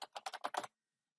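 A short run of about seven quick keystrokes on a computer keyboard, close and crisp, in a rapid even rhythm, then silence.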